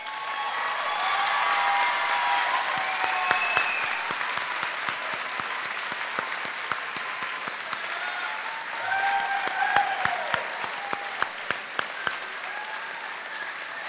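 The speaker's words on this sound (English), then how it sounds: "Round of applause." Steady round of applause from a commencement crowd for graduating students standing in honor cords, continuous clapping with some sharp individual claps standing out and faint voices underneath.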